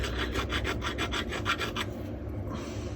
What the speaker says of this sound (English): just get a file. So that's the lay shaft, isn't it? Yeah, and just take the burrs off around that shaft.